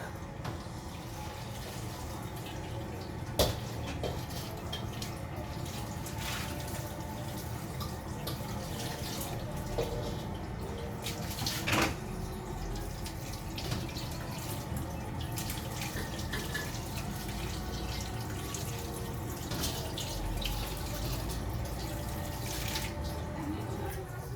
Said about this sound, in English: So I'm actually washing the lid of the wok.